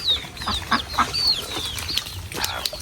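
Household ducks and chickens in a rural yard give scattered clucks and calls, with brief bursts of wing flapping, close by and without talk.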